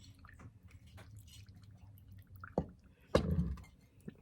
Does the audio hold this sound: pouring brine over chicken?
yes